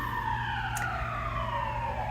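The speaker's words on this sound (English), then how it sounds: "I can't do nothing about the sirens out." Emergency vehicle sirens wail steadily outside, a continuous falling and rising tone held at moderate loudness behind a constant background hum, with no talking.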